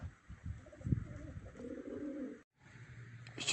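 Racing pigeons cooing at a loft during a pigeon race, soft low coos in bursts, with a short pause near the middle and a murmur of background noise.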